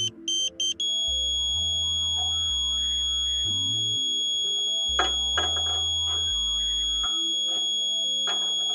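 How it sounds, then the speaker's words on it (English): A satellite alignment meter on a Ka-Sat dish setup gives a continuous high electronic tone after a few quick opening beeps, steady and close, with lower machine hum shifting underneath. "Now make very small movements slowly, very slowly, until you hear the continuous tone."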